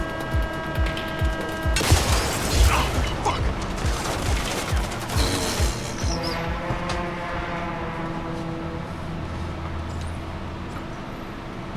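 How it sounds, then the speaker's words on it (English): Rapid bursts of gunfire crackle and pop for several seconds, then fade into a steady mechanical drone with occasional distant shots. "Is that gunfire I'm hearing?"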